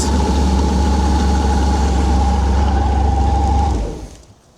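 An Oldsmobile 455 V8 in a 1972 jet boat runs loud and close with a deep, steady rumble, then cuts off and dies away in the final second.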